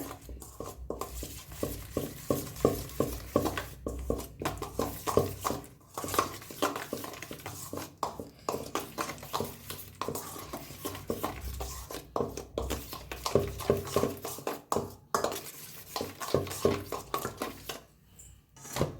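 Two spoonfuls of yogurt being stirred with a little oil and salt in a bowl for a paneer roll filling, a steady run of close spoon scrapes and clinks that keeps going with brief pauses.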